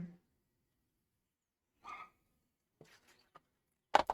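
A dog gives a few scattered, agitated barks with quiet gaps between, ending in a sharper, louder burst.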